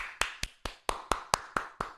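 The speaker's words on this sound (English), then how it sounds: "We motherfucking clapping right now." Sharp, even hand claps, about nine in a row at a brisk steady beat, close and crisp with short gaps between.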